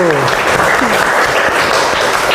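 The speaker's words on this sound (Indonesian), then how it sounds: "kasih aplaus untuk kelompok 1" A classroom group claps loudly and continuously for a student team after their presentation, dense steady applause with a few voices cutting through near the start.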